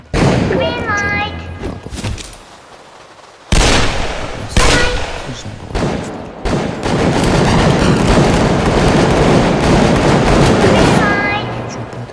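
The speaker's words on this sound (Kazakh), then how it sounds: "Мәссаған достар, маған оқ атылды." Gunfire in a Roblox game, heard as loud, dense bursts of shots and blasts that run through most of the stretch, with a voice speaking over parts of it.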